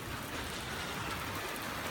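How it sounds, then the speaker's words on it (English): Heavy rain falls steadily in a dense, even hiss of drops striking surfaces, loud and continuous with no voices. "it was just freaking, like drizzling a bit, and then it was raining hard"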